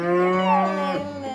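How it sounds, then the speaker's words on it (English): A cow mooing, played back through the Google Assistant: a single loud, drawn-out, nasal moo whose pitch bends up and then down before trailing off, with no other sound around it. "Hey, Google, what sound does a cow make?"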